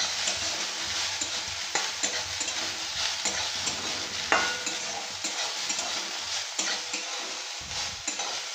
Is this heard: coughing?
no